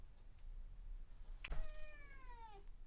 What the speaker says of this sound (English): this cat, he thinks he's an outdoor cat, even though he's never been outside.